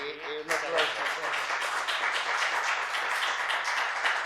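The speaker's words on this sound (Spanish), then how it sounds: "Y un aplauso." An audience applauds at the close of a talk on sports journalism, a dense, steady wash of clapping that swells in and carries on at moderate distance with voices mixed in.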